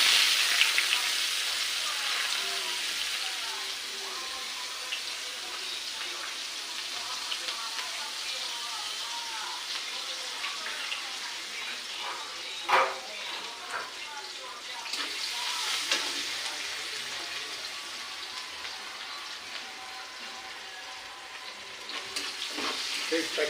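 Onions frying in hot oil with bay leaf and green chillies for a chicken curry, a constant crackling sizzle that fades gradually, broken by a few stirring scrapes and clinks.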